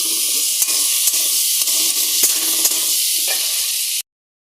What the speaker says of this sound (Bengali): আর চিনিটা দিয়ে কিছুক্ষণ আমি এটা ভালো করে কষিয়ে নেব